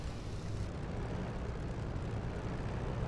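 A Spitfire LF IX piston engine, simulated in the DCS flight game, drones steadily while taxiing, a dense, rumbling roar that holds at an even level throughout with no voices.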